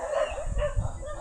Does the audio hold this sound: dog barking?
yes